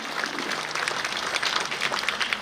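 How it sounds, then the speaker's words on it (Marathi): An audience at a village gathering applauds to welcome a speaker, with dense, steady clapping that holds at an even level for the whole stretch. "जोरदार टाळ्या वाजवून आपल्या ज्ञातनेसेनी वहिनींचं स्वागत करूया"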